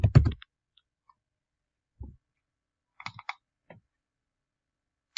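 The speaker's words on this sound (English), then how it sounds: "So I can type in Guy L." Computer keyboard typing, close and quiet: a quick burst of key clicks, then a few sparse, separate taps spaced out over several seconds of silence.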